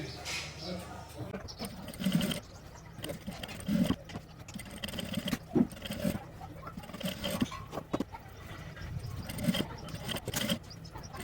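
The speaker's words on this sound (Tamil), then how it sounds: "ஸோ நான் இன்னொரு வாட்டி ஸ்டிச் பண்ண போகிறேன்." Sewing machine stitching a gown runs in short bursts of fast mechanical chatter with pauses between, close by, with a person talking over it.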